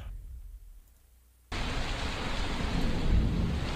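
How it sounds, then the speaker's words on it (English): Thunder rumbles in the background during a soccer show: a quiet low rumble, then a sudden loud broadband roll that swells and sustains to the end, with no talking. "that sound in the background is, of course, Thunder"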